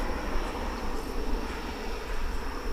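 Airbus A321 jet taking off at DFW airport, a steady, loud broadband engine roar that holds evenly throughout without any voices.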